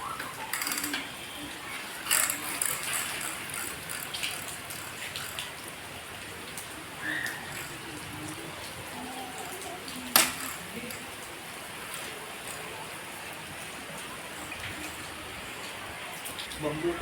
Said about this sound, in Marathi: आज पावसाने हजेरी लावलेली आहे आणि खूप जोरात मस्त पाऊस सुरू आहे